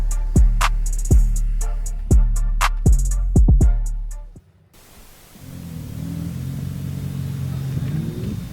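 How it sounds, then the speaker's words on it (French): A BMW E30 race car with a supercharged AMG V8 roars and revs in sharp bursts during warm-up before qualifying, several rapid blips, then cuts out and is followed by a lower, steady engine drone. "Jocelyn, le pilote de la BMW E30 V8 compresseur AMG, c'est bien aussi de le préciser."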